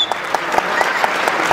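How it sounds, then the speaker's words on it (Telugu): Brief, evenly spaced claps from an audience at the 2013 Diwali celebrations of the Detroit Telugu Association, a quick steady rhythm of sharp hits over a soft crowd wash. "please give him a round of applause"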